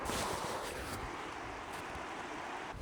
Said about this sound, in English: Love the sound of this river.